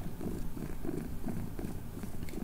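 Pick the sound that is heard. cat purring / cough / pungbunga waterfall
cat purring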